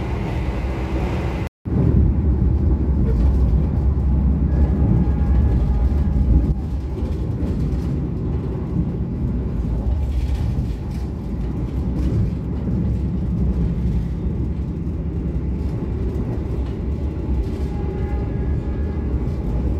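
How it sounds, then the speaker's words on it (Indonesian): The Argo Bromo Anggrek express train runs through Berhubung station with a continuous low, heavy rumble and rolling noise that stays loud and steady for the whole stretch, broken only by one brief dropout early on. "Kereta api Argo Bromo Anggrek melintas langsung stasiun Berhubung"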